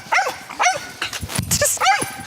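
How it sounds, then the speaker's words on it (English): Little dog barking loudly and close, several sharp high barks in quick succession over about two seconds, with a brief rustle in the middle. "That's his loudest bark."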